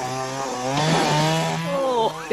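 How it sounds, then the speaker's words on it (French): A chainsaw in a horror film excerpt roars and whines, its pitch rising and falling as the engine revs, loud and close, with a voice briefly shouting over it near the end. "l'incroyable performance de Denis Hooper et de sa tronçonneuse"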